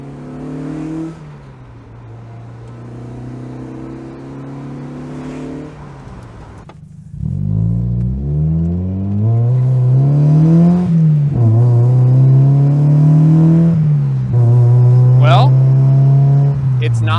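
A 1990 Mazda Miata fitted with a Manzo exhaust drones at steady engine pitch, drops off briefly, then roars back up and climbs through a series of rises and dips while driving, loud and close to the microphone.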